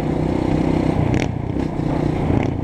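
A dirt bike, a borrowed trail motorcycle, runs close by on a group trail ride, its engine buzzing steadily with brief scraping and clattering over the ground.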